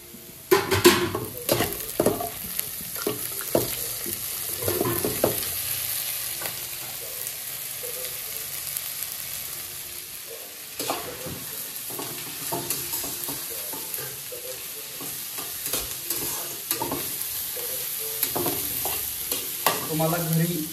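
Tomatoes and spices frying in a pan for malai kofta gravy, a steady sizzle broken by bursts of stirring and scraping, with the loudest scraping near the start.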